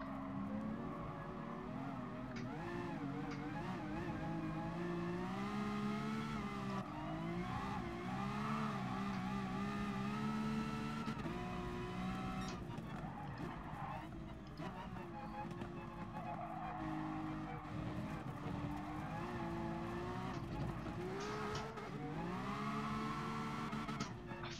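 Engines of race cars whine and rise through gears throughout a Gran Turismo race featuring a LaFerrari, with steady continuous revving and a speaking voice over it.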